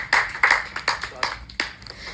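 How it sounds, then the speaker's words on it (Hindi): At a poetry recital, a few people clap to welcome a poet, sparse and uneven near claps with separate sharp strikes rather than a full ovation. "जोरदार तालियों से उनका स्वागत करते हैं"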